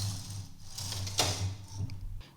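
A knitting machine carriage slides across the needle bed to the right, a steady mechanical whirring rumble with a brief clacking peak midway, near and moderately quiet.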